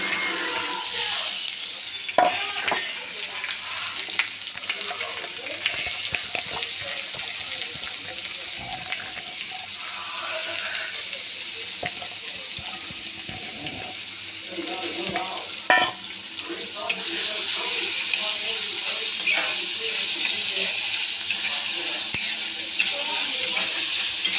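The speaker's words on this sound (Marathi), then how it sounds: "हिरवी मिरची फडफडली, त्याच्यात हा कांदा मी टाकते." Chopped onion goes into hot oil already sizzling with browned garlic and green chili, frying with a steady hiss that grows louder partway through, broken by stirring scrapes and clatters close up.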